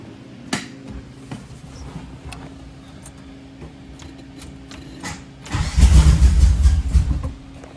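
Engine of a Can-Am Spyder, previously warmed up, first ticks over quietly under some clicks, then surges into a loud, close rumbling run for about two seconds before dropping off.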